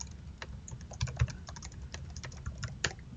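Keys tapped on a computer keyboard while a password is entered, a quick irregular run of light clicks, close and fairly quiet with no talking.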